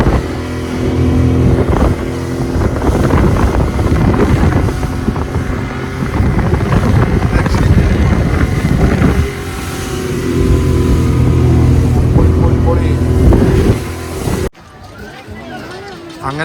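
A speedboat ride near the Othalanga Thuruthu mangroves: a loud, steady engine roar mixed with buffeting wind noise and people talking, which ends abruptly near the close.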